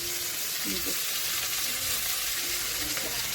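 Fish frying in oil on a clay stove, a dense continuous sizzle with a couple of faint low tonal knocks and soft background sounds, close and steady.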